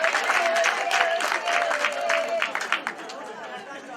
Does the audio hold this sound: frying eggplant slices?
no